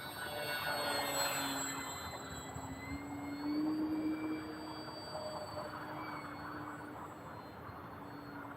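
A FMS Ranger 1200 radio-controlled airplane cruising on low throttle during a winter flight, its steady electric motor hum drifting slightly in pitch as it passes at a moderate distance, with a faint high whine above.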